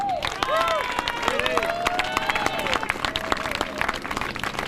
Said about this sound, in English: Let's give a hand clap for Uncle Teddy.